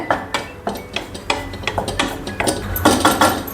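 Seeds dry-roasting in a pan over a low flame, with a spoon or spatula scraping and clinking against the metal in repeated light strokes, close and fairly loud, no voices.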